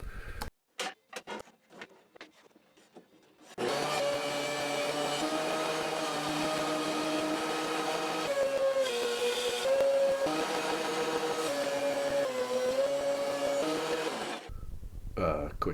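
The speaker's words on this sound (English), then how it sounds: "let's feed these boards to the planer" A planer feeds wooden boards through its cutters, starting abruptly after a few sharp clicks and knocks and running as a loud, steady motorized roar with shifting pitch for about eleven seconds before cutting off.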